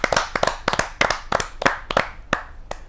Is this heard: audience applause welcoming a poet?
yes